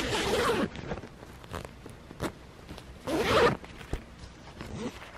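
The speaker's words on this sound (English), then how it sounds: "It unzips." Zipper on a toy American Girl Care Bears sleeping bag pulled open in two long close rasping strokes separated by a few short zips and taps, fairly loud against a quiet room.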